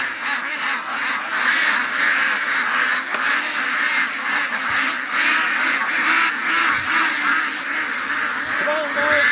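A crowd of ducks quacks loudly and continuously up close, with dense overlapping calls and no pauses.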